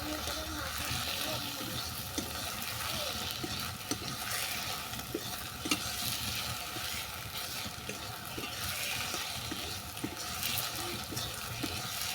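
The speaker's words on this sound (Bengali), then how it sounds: "চিনি সিটার মধ্যে সাবুদানাগুলোকে দেওয়ার পর আরও পাঁচ মিনিট আমি নেড়ে ছেড়ে নিয়েছি" Sago boondi is stirred through sticky sugar syrup in a pan, a continuous soft bubbling sizzle with light scraping strokes, heard close and steady throughout.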